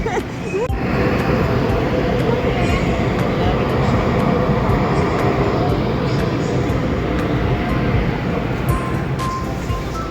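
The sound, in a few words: train arriving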